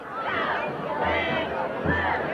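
A crowd at a high school football game between Lebanon Catholic and Upper Dauphin gives off continuous cheering and shouting in rising swells, a loud, dense roar of many voices.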